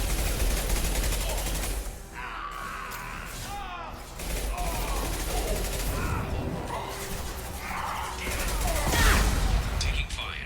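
Gunfire in the sci-fi shooter Mass Effect 2, sustained bursts of automatic weapons with sharp impacts and crashes, loud and continuous, with voices barking over the battle.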